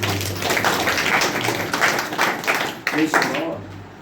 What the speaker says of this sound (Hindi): एक अच्छा ताली बजाए भाई भाई।